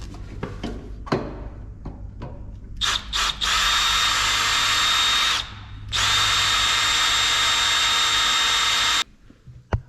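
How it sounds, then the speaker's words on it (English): A power drill with an extra-long bit bores into a Honda HSS1332ATD snowblower impeller, starting with a few short clicks and test bursts, then whining loudly and steadily in two long runs separated by a brief pause. "And then I had to go buy like a longer than usual drill bit."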